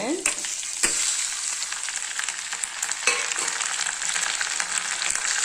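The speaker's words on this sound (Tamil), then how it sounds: "இப்போ நம்ம தக்காளியை போட்டுக்கலாங்க." Chopped tomatoes frying and sizzling in a hot pan for tomato chutney, a steady close crackle broken by a few sharp stirring clatters.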